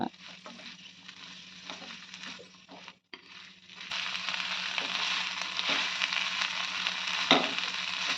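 Onion pieces dropped into a hot pan with ground garam masala, starting as a quieter sizzle and then surging into a louder, steady frying hiss with occasional stirring clicks.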